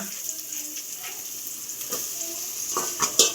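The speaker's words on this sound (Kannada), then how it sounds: "ಇದನ್ನು ಚೆನ್ನಾಗಿ ಹುರ್ಕೊಳ್ಳೋಣ ಒಂದು ಕಲರ್ ಬರೋವರೆಗೂ" Onions frying in ghee in a pan for ghee rice, giving a continuous close sizzle with a few brief scrapes and clinks toward the end, with no one talking.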